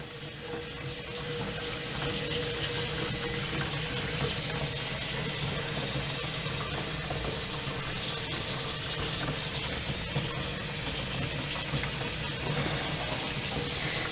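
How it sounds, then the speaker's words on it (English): Cold water pours steadily from a newly installed bathroom sink tap, a close, even rushing hiss that starts softer and holds constant throughout with no talking. "Cold water running"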